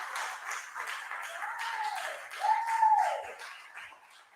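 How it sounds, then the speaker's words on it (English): An audience applauds and cheers at a creators festival, a broad wash of clapping that swells and holds steady for several seconds, with a few voices rising above it. "Let's give him a round of applause, shall we?"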